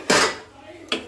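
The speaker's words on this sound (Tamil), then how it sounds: "இதுக்குன்னு வேக வச்ச பருப்பை அப்படியே நம்ம கூட்டாஞ்சோட மிக்ஸ் பண்ணுறோம்" Cooked lentils are stirred into kootanchoru in a metal pot, with a loud scrape of a spoon against the pot at the start and two quick clanks at the end.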